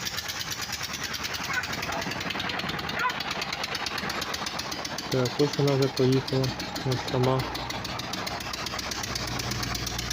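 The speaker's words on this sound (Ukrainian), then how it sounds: "Трішки двигун прогрівся і стало краще" A diesel walk-behind tractor engine fitted into a homemade ZAZ 968M car runs steadily with a fast, rattling, jackhammer-like knock throughout, close by, while someone talks partway through.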